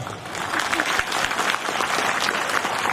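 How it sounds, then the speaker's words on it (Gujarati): Enthusiastic audience applause at a dayro folk gathering held at the Phuleshwar Mahadev temple in Umta, a dense continuous clatter of many clapping hands that stays loud and steady throughout. "અમારા વિક્રમને પહેલાં તો જોરદાર તાળીથી વધાવી લ્યો"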